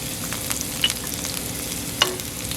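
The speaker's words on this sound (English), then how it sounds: "we're gonna saute them for a little bit, just until our onions turn translucent" Peppers and onions sautéing in a pan for empanada filling, a steady soft sizzle with a couple of brief sharp clinks of utensil against pan.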